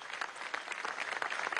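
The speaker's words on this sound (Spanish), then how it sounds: "le demos un aplauso entre todos" A large crowd at an outdoor political commemoration led by President Nicolás Maduro in Venezuela, marking the 14th anniversary of the April 2002 coup, claps in a steady, continuous patter. The applause is faint and distant, with no clear voices.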